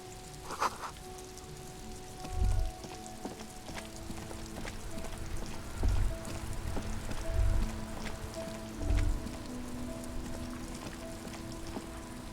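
Steady rain falls in Disco Elysium, a soft, continuous hiss of drops on surfaces with a few low thumps mixed in, even and moderately quiet throughout.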